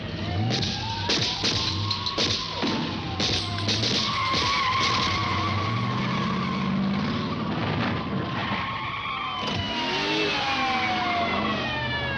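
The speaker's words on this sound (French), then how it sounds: "La Mercedes de Renza a été avancée dans l'allée." A Mercedes car drives in along a driveway, its engine revving loudly and close while tires screech and skid, with a busy clatter of noise around it.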